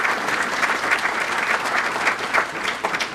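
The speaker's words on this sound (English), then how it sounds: "So a big round of applause for these folks who sponsor the entire program throughout the year." A chamber of commerce awards-night audience claps for the event's sponsors, a dense, steady wash of applause from a large crowd, close and fairly loud, running unbroken throughout.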